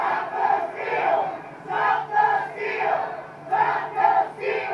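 Crowd of rioters outside the Capitol, many voices shouting and chanting together in loud surging waves with brief lulls, a dense roar of raised voices at a middle distance.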